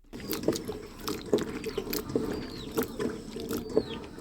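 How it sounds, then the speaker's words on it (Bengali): Small pumpkin pieces washed by hand in water, with close splashes, drips and soft knocks repeating at an irregular pace. "মিষ্টি কুমড়াগুলো ভালো করে ধুয়ে নিয়ে"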